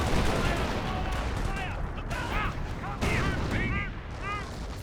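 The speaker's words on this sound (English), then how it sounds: "MG42 may be firing away" Bursts of MG42 machine-gun fire in Company of Heroes, sustained loud crackling under a busy mix of battle noise, with a commentator's voice running over it throughout.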